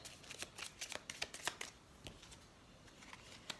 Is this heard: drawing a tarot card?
yes